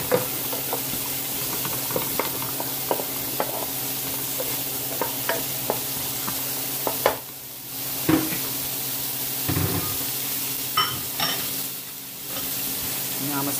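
Onions and garlic sizzle steadily in a pan, with stirring clicks and knocks throughout; carrots go in partway, briefly changing and muffling the hiss before the frying resumes, loud and close with no talk.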